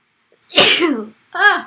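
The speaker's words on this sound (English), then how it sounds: "Who sneezes during a live presentation? Me." A loud, close sneeze bursts out, followed a moment later by a brief, softer vocal sound.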